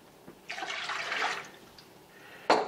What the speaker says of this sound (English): So I'm going to add 3 quarts of cold water.